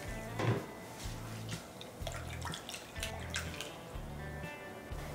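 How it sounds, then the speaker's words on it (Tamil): Flattened rice (aval) is rinsed in water in a vessel, giving faint, soft sloshing and splashing with light taps against the pot. "ஃபர்ஸ்ட் வந்து இத ஒரு பாத்திரத்துல மாத்திட்டு ஒரு வாட்டி தண்ணில அலசிட்டு"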